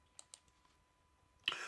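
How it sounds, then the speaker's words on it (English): A few sparse, quiet clicks from typing on a computer keyboard, then a louder burst of keystrokes at the end, with no voices. "So I'm typing in conditions here."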